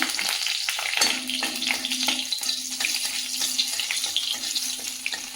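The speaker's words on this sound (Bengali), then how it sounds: "ডালটা বানানোর জন্য আমি কড়াইতে দিয়েছি সর্ষের তেল তেলের মধ্যে দিয়ে দেব শুকনো লঙ্কা" Dry red chillies fry in mustard oil in a wok, giving a steady crackling sizzle with bursts of popping, close and continuous throughout with no voices.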